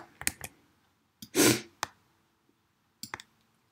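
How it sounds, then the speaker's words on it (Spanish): Computer mouse clicks while drawing in Illustrator, sharp isolated clicks in small clusters with a brief rustle between them, close and quiet. "Hago un clic, clic sostenido"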